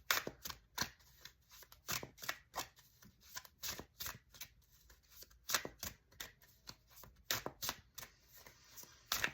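Tarot cards being shuffled during a New Year tarot reading, heard as quick, crisp riffling bursts that repeat in an uneven rhythm, close and fairly quiet, with no voices.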